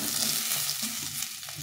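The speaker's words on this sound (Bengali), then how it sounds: "তো আমার এটা একটু ভাজা হয়ে গেছে," Mixed vegetables with cauliflower fry in a pan with a steady close sizzle, stirred with light scraping movements, alone without talk.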